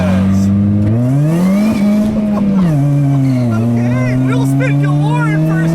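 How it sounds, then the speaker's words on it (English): A 2005 Chevy Cobalt SS Supercharged spinning its tires in first gear, the engine revving up with a rising, wavering tone and supercharger whine as the tires squeal, loud and close, with a voice talking over it. "Spin galore in first gear."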